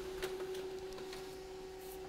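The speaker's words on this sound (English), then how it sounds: "It will print in just a few seconds." An HP LaserJet M209dwe printer runs as it starts printing a document, giving a steady faint hum with a constant tone and soft mechanical ticks, no voices.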